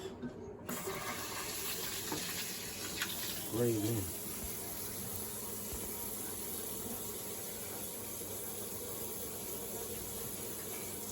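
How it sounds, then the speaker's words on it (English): Cold water runs from a kitchen faucet to rinse and cool cooked pasta, a steady close hiss and splash that persists throughout, with brief speech over it early on. "And then what I do, I turn on the cold water."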